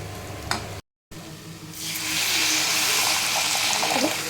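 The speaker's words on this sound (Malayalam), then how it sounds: "പുളിവെള്ളമാണ് ഞാനിപ്പം ആഡ് ചെയ്യുന്നത്." Tamarind water pours into a hot pan of fish curry and a loud sizzle bursts up, hissing steadily for several seconds after a brief silence.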